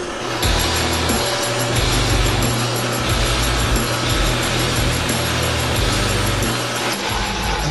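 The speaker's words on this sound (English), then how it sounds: "I have to take it to the lathe and reform the rim." A lathe reforms the rim of a brass cartridge case, producing a close, steady mechanical grinding whir with a low motor hum throughout, continuous and without speech.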